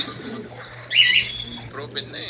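A racing pigeon arrives at the loft after a 157-mile race from Orland, California, giving soft low coos over quiet background hum, with a brief louder burst of chirping or flutter in the middle.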